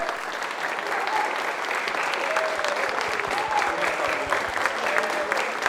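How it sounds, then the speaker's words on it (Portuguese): Sustained applause from a crowd at a political party event, steady and dense clapping filling the space throughout, with faint voices mixed underneath. "Quero que vocês recebam essas palmas, porque são merecedores disso aí."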